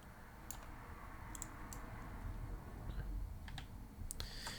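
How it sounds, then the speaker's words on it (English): Faint computer keyboard typing: sparse, quiet keystroke clicks in small bursts over a low background hum, heard alone without talk. "So I think my keyboard's quieter with the new mic setup. You still hear it"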